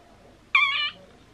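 A single clear cat meow, close and fairly loud, lasting under half a second against a quiet room, with no talking.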